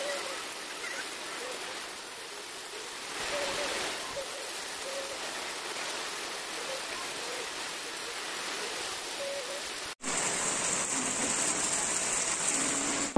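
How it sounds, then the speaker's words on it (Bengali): Heavy rain pouring steadily outdoors, a dense continuous hiss that holds loud throughout, briefly cutting off near the end before resuming even louder. "प्रचंड बिष्टि होच्छे"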